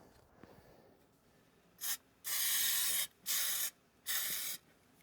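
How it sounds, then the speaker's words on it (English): A can of spray glue hisses in four bursts, a short one then three longer sprays, applied near an air conditioner compressor while fitting a sound blanket; close and loud over quiet background. "let me see if I can glue this"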